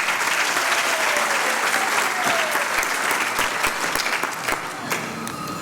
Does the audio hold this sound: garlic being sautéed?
no